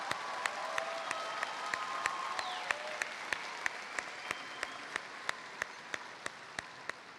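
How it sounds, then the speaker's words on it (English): Audience applause at an evening 2022 commencement ceremony for international students, a sustained wash of clapping from a large crowd with regular sharp ticking clicks running through it. "Let's give them a round of applause."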